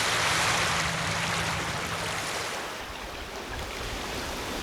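Sea waves washing over a sandy tidal flat, a steady broad rush of surf that stays even and fairly loud throughout, easing slightly near the end, with no voices.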